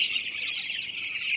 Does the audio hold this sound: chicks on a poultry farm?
yes